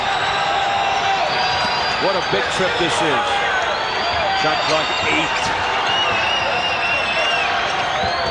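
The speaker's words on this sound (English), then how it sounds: "The crowd urging the Warriors on." Basketball arena crowd at a 1992 Kings at Golden State Warriors game keeps up a loud, steady roar of cheering for the Warriors, with a commentator talking over it and occasional ball bounces.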